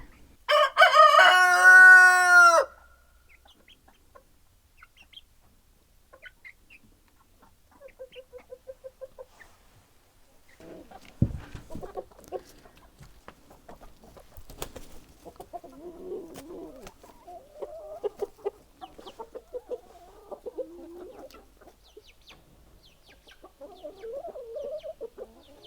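A rooster crows loudly and close at the start, then quieter scattered clucking and soft chicken chatter from a homestead flock, some molting, follow over a calm background.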